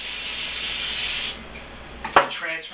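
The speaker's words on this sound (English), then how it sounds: "So let's spray it down with cooking spray" Cooking spray hisses into a plastic Tupperware container in a steady burst of about a second, followed by a short clunk as the container or can is handled.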